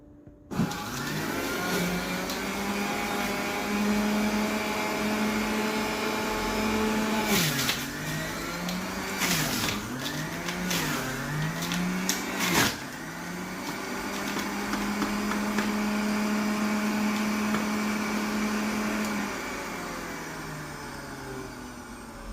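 A motorized juicer whines loudly as fresh apples are fed in, its pitch dipping and wobbling under load in the middle before settling back to a steady hum.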